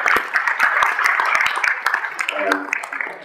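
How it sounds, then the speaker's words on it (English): A Toronto lecture audience claps and cheers in a loud, full burst of applause with crowd voices blended in, fading slightly toward the end. "Give yourself a round of applause, please, guys."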